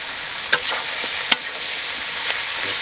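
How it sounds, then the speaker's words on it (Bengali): Turmeric, chili and salt sizzle in a frying pan as they are stirred, a steady close hiss broken by a few sharp scrapes and taps of the spoon against the pan. "নাড়াচাড়া করে ঢেকে দেবো"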